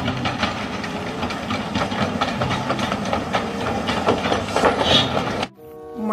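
Toy steam train running continuously with a dense mechanical whirring and clatter, steady and fairly loud, then cutting off abruptly near the end.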